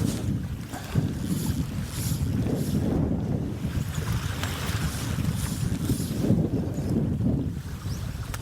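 Strong wind batters the microphone on a seaside shore at Filey Brigg during fly fishing, a loud, steady rumbling roar with gusty swells and a hiss of surf underneath.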